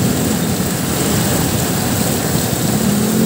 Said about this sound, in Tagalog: Lakasan ng ulan.